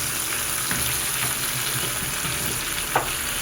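Ground coriander and cumin sizzle in a frying pan with oil while a spoon stirs and scrapes them, a steady close hiss with occasional soft knocks.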